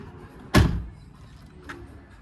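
A third-generation Toyota 4Runner's door is shut once with a single loud, close thud, followed by a faint short chirp a second later in otherwise quiet surroundings.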